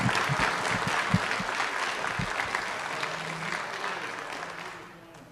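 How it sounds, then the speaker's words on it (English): A city council audience gives a round of applause, dense sustained clapping from a room full of people that holds steady and then tapers off toward the end. "So let's give him a hand of applause."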